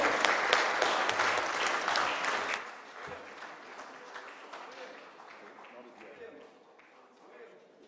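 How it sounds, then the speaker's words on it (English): Audience applause at the opening ceremony of the WSF Under-23 World Squash Championship, a dense burst of many hands clapping that is loud at first and then thins and fades over several seconds. "let's give him a big round of applause"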